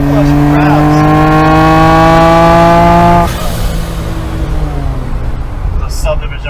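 A Millennium Jade Nissan Skyline R34 GT-R M-Spec Nür revs hard with a rising engine note, shifts gear about halfway through, then pulls on with a lower drone, loud and close.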